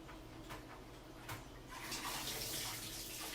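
Dirty water from soaking lettuce splashes and pours steadily for a few seconds, growing louder and fuller partway through, with a few brief clatters beforehand.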